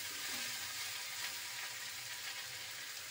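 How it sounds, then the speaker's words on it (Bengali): Mixed vegetables sautéing with spices in a karahi over low heat, a steady, soft, even sizzle that keeps up throughout with faint stirring and no talk. "এই জন্য আঁচটা কমিয়ে সবজিটা ভালো করে মশলার সাথে কষিয়ে নেব"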